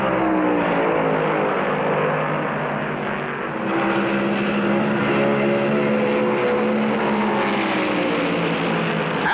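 1971 NASCAR stock cars racing in the Southern 500 at Darlington Raceway, a loud, sustained roar of engines droning on with a slight dip and swell as cars pass.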